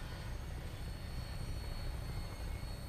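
An aircraft in the Fallout 4 video game takes off with a steady droning engine roar, low rumble and high whine running continuously at moderate level with no voices.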